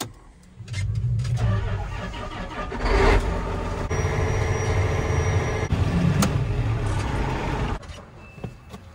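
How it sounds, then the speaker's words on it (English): A John Deere 9330 tractor engine cold-starts with a brief cranking whir, then catches and settles into a loud, deep diesel idle with a slight rev bump, heard close before fading near the end. "Cold start."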